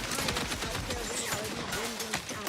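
Automated turret gunfire in The Outer Worlds 2 video game, a dense continuous rattle of rapid shots amid combat noise, loud and close throughout.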